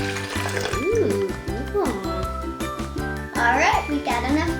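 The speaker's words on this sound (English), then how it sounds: "Let's fill it up." Water pours into the tank of a Little Tikes STEM Jr Twisty Tornado toy with a running, gurgling fill sound. Someone talks over it, and steady background music plays throughout.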